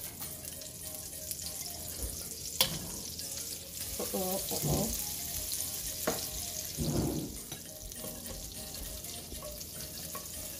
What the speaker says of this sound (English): I'm putting 2 tablespoons of butter.